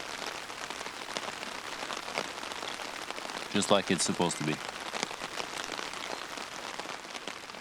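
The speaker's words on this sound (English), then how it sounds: "It's been a great day out in the rain" Rain falls steadily on a campsite with a soft, even patter and hiss throughout, while a voice speaks briefly in the middle.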